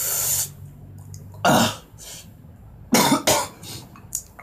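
A person coughs harshly in several separate bursts, the first strained and throaty, then two louder coughs after pauses, close and with no talk.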